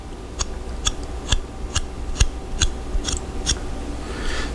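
Steady, evenly spaced scraping strokes of a Ruike P801 folding knife with 14C28N steel blade drawn across a sharpening stone, each pass a crisp gritty rasp repeating about every half second, close and alone.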